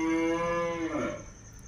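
A pregnant Hallikar cow in Oorukere, Tumkur district, lets out one loud, close moo that holds steady for about a second before breaking off and fading into quiet farmyard ambience.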